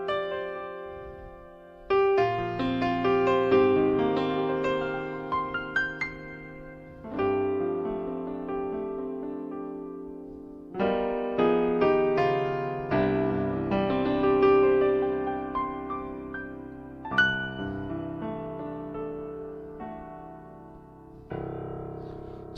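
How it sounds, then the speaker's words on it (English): Acoustic piano voice from a Korg PA600 arranger keyboard plays a slow, gentle melody with sustained chords, each phrase ringing out and decaying softly, with no talking. "this is the sound of the acoustic piano"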